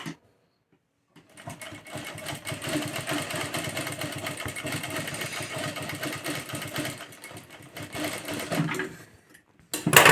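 A sewing machine stitches cloth in a steady, fast mechanical whirr that runs for several seconds after a brief pause, close and fairly loud, then stops before a short burst at the end.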